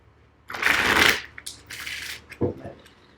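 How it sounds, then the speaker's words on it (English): Tarot cards being shuffled in a few quick riffling bursts, close and fairly loud, with short pauses between. "I just still like to shuffle a little bit on camera."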